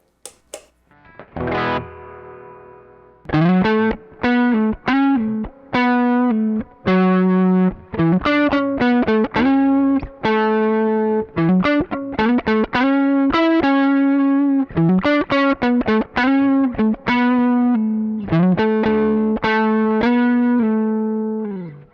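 An electric guitar plays a lively riff through a Joyo American Sound overdrive pedal with a gritty tone and a touch of reverb, loud and close, notes picked in quick rhythmic bursts.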